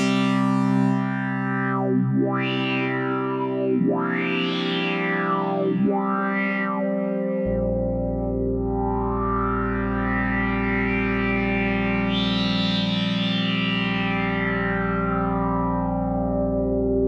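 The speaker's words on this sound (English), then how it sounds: "Man, you gotta love these filters." Roland Fantom synthesizer tone with heavy filter sweeps, the pitch and brightness swooping up and down repeatedly before one long slow rising-and-falling sweep over a sustained droning note, loud and without any voices.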